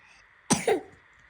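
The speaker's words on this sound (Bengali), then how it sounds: "কাশি হচ্ছে কাশি তো হবে" A child gives a single short cough, a quick two-part burst close by in an otherwise quiet room.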